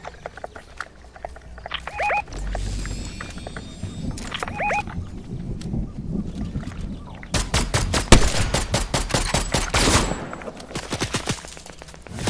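Gunfire during a Fortnite match, with a sniper on a wooded hilltop: scattered sharp shots early on, then a dense, loud run of rapid cracks, some overlapping, amid other game sounds.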